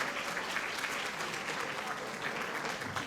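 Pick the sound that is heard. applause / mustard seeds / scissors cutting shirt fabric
applause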